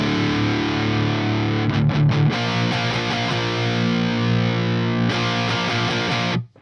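Electric guitar played through a Peavey Valveking 100 tube amp with the volume boost engaged, giving a loud, sustained distorted tone with chord strums and a few quick picked stabs before cutting off abruptly at the end.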